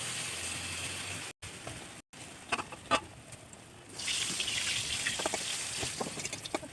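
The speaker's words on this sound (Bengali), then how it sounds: "তেলটা গরম হয়ে গেছে, আমি একটা মোমো দিয়ে দিচ্ছি।" Prawn momo wrapped in bottle gourd leaf hits hot white oil in a kadai, giving a steady close sizzle with scattered crackles that swells and stays loud after a few quiet ticks.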